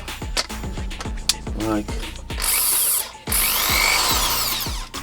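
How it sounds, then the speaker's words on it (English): A power drill whirs in short bursts with clicking and ratcheting, then runs loudly and steadily for stretches, close by. "Let's make sure the drill is mounted correctly. Let's plug it in."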